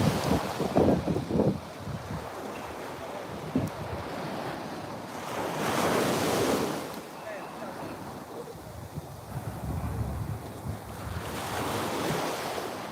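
Ocean waves roll onto a beach with a sea lion nearby, heard as surging surf swells over steady wind buffeting the microphone, with occasional voices in the background.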